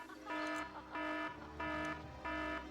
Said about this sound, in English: That is just an alarm letting everybody know there are 10 minutes remaining in the following tournament